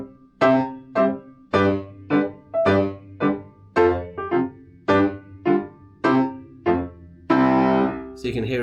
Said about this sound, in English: where you get a loud, strong beat followed by a soft beat